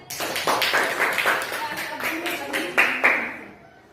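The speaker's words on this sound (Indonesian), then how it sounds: "Kita beri aplaus untuk kelompok mahir" Classroom applause for a student group after their presentation, a short burst of loose hand clapping lasting a few seconds, mixed with voices and fading out at the end.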